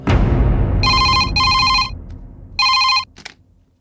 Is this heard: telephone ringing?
yes